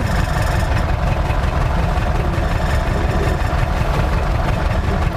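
Tractor engine idling steadily with a manure spreader attached, a loud, continuous low rumble with constant vibration and no pauses, heard alone without voices.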